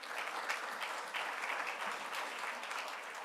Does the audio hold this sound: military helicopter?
no